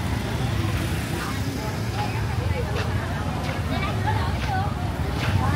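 Vehicles jam up in a busy Vietnamese market in Định Quán, Đồng Nai, where a steady roar of engines and traffic mixes with crowd hubbub while a person talks over it.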